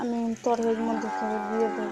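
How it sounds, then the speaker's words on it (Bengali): A cow lets out a long, low, drawn-out moo nearby, while a person speaks briefly at the start. "আমাদের গরুটা কীরকম ডাকছে শুনতে পাচ্ছ আমাকে দেখছে আর ডাকছে"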